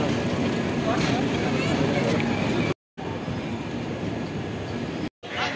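Mithila Express train pulling into Raxaul Junction station at its journey's end, a steady loud rumble of rail cars and wheels filling the scene, broken by two brief dropouts, with voices speaking over it.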